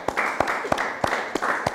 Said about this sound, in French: On acclame un peu pour Betty.